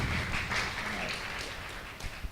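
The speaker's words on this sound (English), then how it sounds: "May we have a round of applause?" An audience at an international inter-university debating festival claps for a visiting university professor, a fairly soft, even spread of applause that gradually tapers off.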